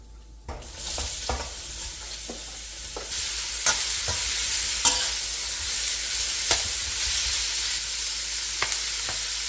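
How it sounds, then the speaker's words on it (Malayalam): Julienned pumpkin sautés in coconut oil with chilli flakes, a sizzle rising suddenly as it hits the hot pan, then a steady crackle punctuated by scattered scrapes and taps of a spatula stirring, close and moderately loud. "ഇനി അടുത്ത് ഞാൻ പംകിൻ ജൂലിയനായിട്ട് കട്ട് ചെയ്ത ഇതിനെ ഒന്ന് സോട്ടേ ചെയ്തെടുക്കാൻ പോവാണ്"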